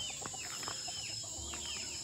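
Soft clucking and chirping from several chickens nearby on a farm in the Philippines in the evening, with a steady hiss of background noise throughout.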